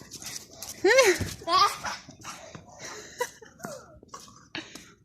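A dog barks a few times in short bursts, mixed with coughing and throat-clearing sounds and scattered background noise.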